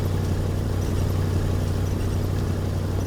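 A Chevrolet truck engine idles in a video game, a steady, even low rumble that holds constant and fairly loud with no revving.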